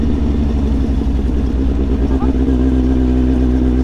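A Kawasaki Z800 motorcycle engine idles and revs loudly and close by, a steady deep rumble with rising throttle blips throughout.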